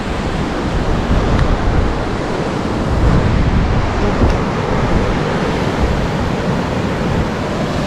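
Strong wind roars steadily during a typhoon near water, a dense, continuous broadband rush with gusty swells and no talk.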